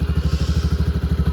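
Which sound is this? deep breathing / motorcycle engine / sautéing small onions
motorcycle engine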